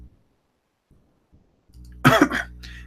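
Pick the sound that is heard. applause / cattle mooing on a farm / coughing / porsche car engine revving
coughing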